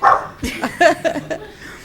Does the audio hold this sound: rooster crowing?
no